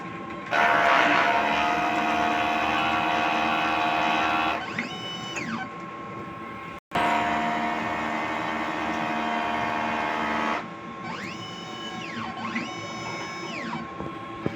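A DTF printer runs a print head cleaning cycle: loud, steady mechanical whirring and pumping, broken by a brief pause, then rising and falling whines as the carriage motors move back and forth, all without talk.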